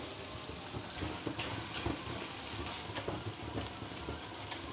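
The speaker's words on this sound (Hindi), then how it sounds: "फिर अच्छे से भूनेंगे हम कीमे को।" Minced meat keema frying with softened tomatoes in a pan over a raised flame, a steady close sizzle with faint scraping and stirring noises, no voices.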